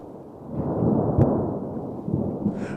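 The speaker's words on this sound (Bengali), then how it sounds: "বাইরে প্রচণ্ড বৃষ্টি হচ্ছিল, বিদ্যুৎ চমকাচ্ছিল।" A cartoon storm with heavy rain and lightning brings a single sharp thunder crack within a swelling, rumbling roar that slowly settles back down.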